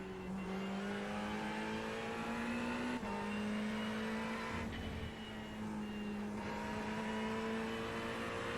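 A Ferrari 488 GT3 racing at Laguna Seca in iRacing, its engine droning loud and steady from the cockpit. The pitch rises through the gears, drops and climbs again as the car brakes, turns and accelerates away.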